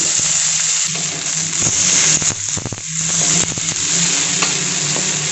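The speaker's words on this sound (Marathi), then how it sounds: "आता आपण टोमॅटो टाकून घेऊ।" Onions and tomatoes fry loudly in a pan over a gas flame, a steady close sizzle broken by irregular clatters of stirring.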